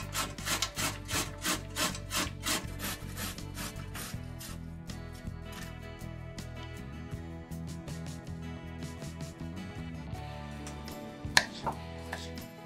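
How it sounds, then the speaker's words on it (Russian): Zucchini rubbed against a coarse grater, with steady rhythmic rasping strokes that start strong and regular, then turn into a quieter, continuous scraping with a few sharper knocks near the end, close and alone without any talking. "У кабачка срезаю плодоножку и хвостик и натираю на крупной терке."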